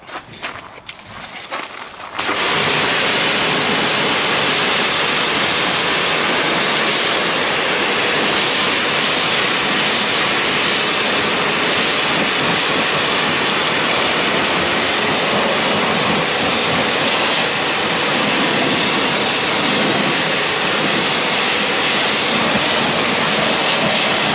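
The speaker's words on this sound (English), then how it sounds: "let's pressure wash that off straight away, just so we can show the end result" A pressure washer blasts a car wheel on a 2024 Subaru Forester STI during a wash. After a brief quieter start, a loud, steady rushing hiss runs without a break for over twenty seconds, close up and with no voices.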